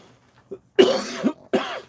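A person coughs close by: a short cough, then a longer hacking burst, followed by one more cough.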